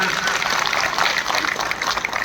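Loud, steady applause from a large crowd at a political rally in Ghaziabad, a dense wash of clapping that carries on without a break for the whole stretch.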